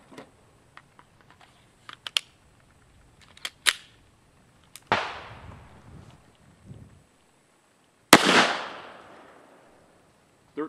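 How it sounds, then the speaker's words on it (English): A Kel-Tec PMR-30 pistol firing CCI Maxi Mag .22 WMR hollow points outdoors, with several sharp reports: a few loud cracks trailing into long echoing decays amid small clicks and handling noises, no talking. "CCI Maxi Mag 22 WMRHP out of the Caltech PMR-30 pistol."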